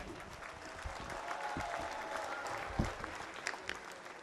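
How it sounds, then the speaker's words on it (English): An audience claps steadily at an inauguration ceremony, a dense, sustained patter of many hands at moderate distance with a few sharper claps standing out. "a big round of applause to our friends from TIS, Wellington, and KJ Somaya"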